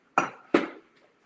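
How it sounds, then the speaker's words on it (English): Ice cubes dropped into a glass of drink being mixed as a cocktail, giving two sharp, close clinks about a third of a second apart, each ringing briefly before fading, with no talking. "And you can add a little bit of ice."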